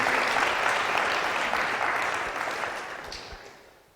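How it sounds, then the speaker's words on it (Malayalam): An indoor audience at a night prayer vigil bursts into close, dense applause that fades gradually over a few seconds. "വെരി ഗുഡ്, ഒരു കയ്യടി കൊടുത്ത്."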